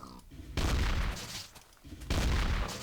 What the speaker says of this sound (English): that is the Counter-Strike shotgun sound, as are all the other sounds